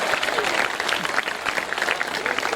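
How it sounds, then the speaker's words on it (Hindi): An audience claps at a 2014 Hindi poetry gathering (kavi sammelan) in Khariar Road, Odisha, a dense, continuous patter of many hands with a speaking voice mixed in. "आप मेरे लिए भी तालियां बजा सकते हैं"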